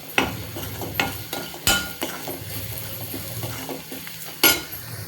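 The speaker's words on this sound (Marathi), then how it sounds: "छान परतून घ्यायचं आहे मसाला" Masala sautéing in a pan for whole masoor dal, with a spoon stirring and clinking against the metal at irregular moments over a steady, close frying sizzle.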